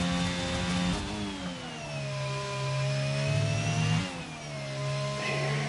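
Race car engine accelerating hard out of a hairpin at Japan in the F1 23 video game, a loud continuous high-pitched whine climbing through the revs, dipping at a gear change near four seconds and rising again.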